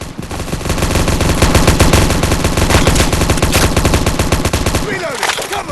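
Dense, loud video-game gunfire rattles in rapid automatic bursts for several seconds, then breaks off into a brief muffled tail.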